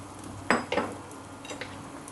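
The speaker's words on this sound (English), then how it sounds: "Add the mushroom." Mushrooms going into a pot of tom yum soup: two quick clattering knocks of utensil against pot, then a couple of fainter taps over a low background.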